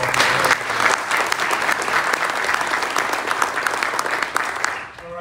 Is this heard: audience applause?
yes